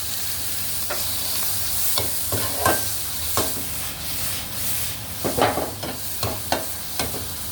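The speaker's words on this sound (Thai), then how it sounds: "ใส่กระเทียมกับพริกสดลงไปครับ" Garlic and fresh chili stir-frying with softened onion in a pan for a chicken giblet and sweet pepper dish, a steady sizzle broken by repeated scraping stirs that grow busier toward the end, close and alone.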